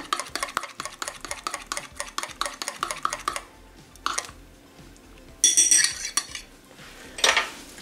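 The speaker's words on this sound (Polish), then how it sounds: "Mieszamy dokładnie." A utensil clinks and scrapes rhythmically against a bowl as a cheesecake-style mixture is stirred thoroughly, with quick repeated strokes for a few seconds, then a pause and a few louder, scraping stirs.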